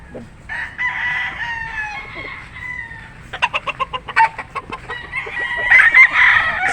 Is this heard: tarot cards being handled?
no